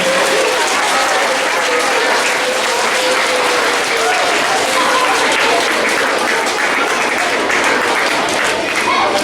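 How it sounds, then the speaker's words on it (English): Loud, dense applause fills a school awards assembly as students are honoured, an unbroken wash of many hands clapping with some crowd murmur mixed in. "Give them all a round of applause."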